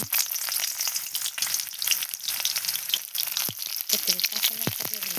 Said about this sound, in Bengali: এখন আমি পেঁয়াজ দিয়ে দিলাম